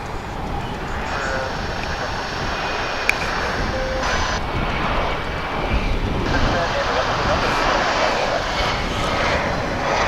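An American Eagle regional airliner on Flight 3730 from Austin, Texas, arriving at DFW Airport, its engines a steady roaring drone that builds slightly toward the end, heard from a plane-spotting position near the runway.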